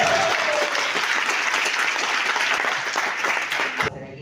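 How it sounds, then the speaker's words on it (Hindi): A seminar audience bursts into loud, sustained applause, dense clapping filling the room for about four seconds before cutting off sharply at the end. "तालियों की गर्जना बताएगी कि ये बात करी जाएगा।"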